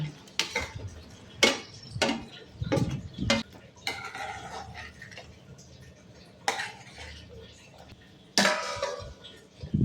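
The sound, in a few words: onions being added and stirred into masala in a pan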